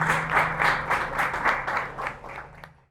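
Applause breaks out from a small audience at an after-office talk event, a brief round of clapping in quick pulses that fades out within a few seconds.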